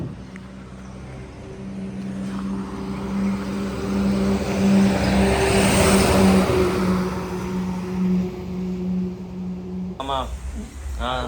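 A car arriving in the early morning to carry a Ganesh idol rumbles steadily with a low engine hum, swelling louder mid-way as it draws near, then changing abruptly near the end.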